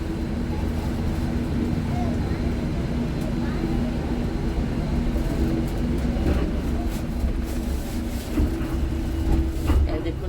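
A People's Bus drives along a road in Pakistan, heard from inside as a steady engine drone with a low hum and occasional rattles and clatters throughout.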